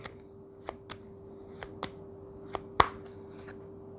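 Tarot cards being shuffled and drawn during a Thai fortune-telling reading: a handful of sparse, crisp card snaps and flicks spaced a few beats apart, one sharper near the end, over a quiet steady hum, with no talking.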